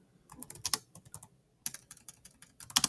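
A computer keyboard clatters with quick bursts of keystrokes while code is typed, close and fairly quiet, with a short pause between bursts.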